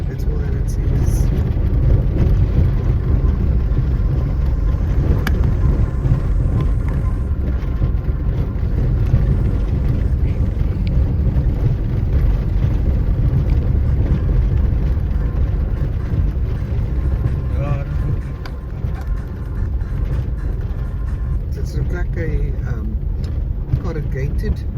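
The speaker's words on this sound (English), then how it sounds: "Corrugated gravel road, eh?" A car rolls along a corrugated gravel road, giving a loud, steady low rumble with constant rattling vibration throughout, while people talk inside the vehicle.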